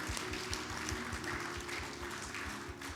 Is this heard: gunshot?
no